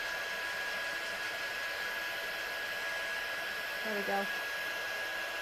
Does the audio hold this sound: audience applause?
no